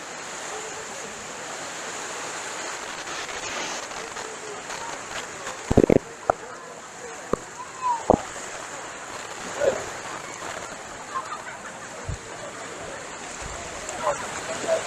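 Steady rushing surf and strong sea current at Boracay beach, a constant broad wash of water with a few brief nearby knocks and splashes mixed in.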